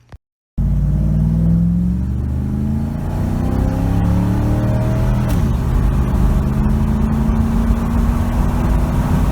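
A 10th-generation Ford F-150 truck with 3.55 axle gears launches hard from a stop after loading the torque converter. Its engine rumbles loudly, then climbs through several long rising sweeps as it accelerates toward 60 mph.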